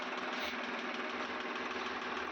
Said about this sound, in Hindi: स्वराज 735 ट्रैक्टर है।